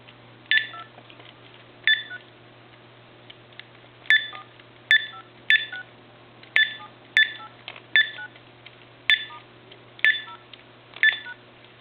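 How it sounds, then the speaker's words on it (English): Key presses on a Bugs Bunny animated cordless telephone beep out about a dozen short dialing tones in an uneven rhythm, each one crisp and close against a faint steady background hum. "I'm going to go ahead and dial the numbers."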